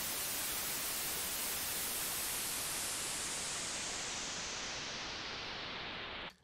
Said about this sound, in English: I also added this white noise, the 3-osc white noise